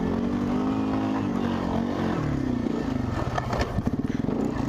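A motorbike or quad climbs a steep dirt slope, its engine droning loudly and straining at a steady pitch before sputtering and clattering as it reaches the top.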